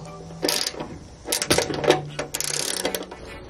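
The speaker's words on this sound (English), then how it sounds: "Grab your 13 millimeter wrench, tighten that joint." A 13 mm wrench tightens a bolt on a truck's ball mount joint. It gives close, quick ratcheting clicks in a few bursts, with metallic rattles between them.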